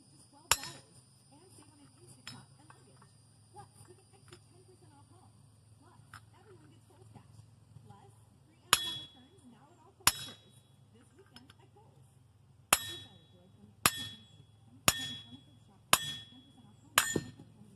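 Hammer striking a 1/8-inch socket to drive a part out on a 2000 Ford Focus, sharp metallic clanks, a couple early and then a rapid series of about seven blows, with quiet talk between.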